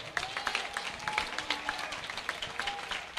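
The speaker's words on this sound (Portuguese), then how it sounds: "Vamos aplaudir o Senhor" Applause from a church congregation at a gospel anniversary celebration, with scattered claps over a sustained tone and a voice speaking over it, fairly faint.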